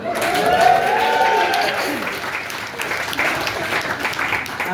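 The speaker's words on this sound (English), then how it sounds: "I think that deserves a round of applause, that." Audience applauds African entrepreneurs with a dense, sustained round of clapping that stays loud throughout, with a faint voice or cheer rising over it early on.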